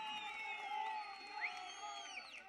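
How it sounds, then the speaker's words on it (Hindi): A crowd at a political rally in Saluni, Chamba, Himachal Pradesh, cheers steadily with overlapping shouts, whoops and whistles, a continuous moderate roar from a large gathering. "यह मैं आपकी तालियों से, आपके उत्साह से मुझे स्पष्ट दिख रहा है"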